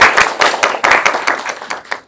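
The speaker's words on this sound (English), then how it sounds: "Can we get a round of applause?" An audience at a student government meeting gives a brief burst of clapping, many hands at once, loud and close, fading after about two seconds.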